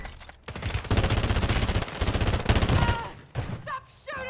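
Call of Duty gunfire: dense automatic bursts and rapid shots rattle for several seconds, then ease off into sparser game sounds with brief electronic chirps near the end, with no speech.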